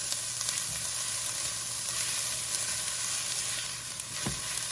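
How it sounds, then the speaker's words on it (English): Onions softening in a dry pan with no oil for a beef stew, giving a steady, close, even sizzle that holds throughout, with a soft knock near the end. "But yet, I'm gonna soften these onions."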